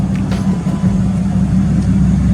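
A 6.7 Cummins diesel pickup fitted with a Quadzilla boost fooler accelerates hard, its deep droning engine roar loud and close, steady and rising slightly over a couple of seconds with no talk.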